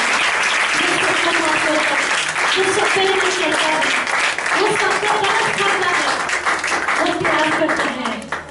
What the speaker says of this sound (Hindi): ऐसे खुदा के लिए जोरदार तालियां बजाओ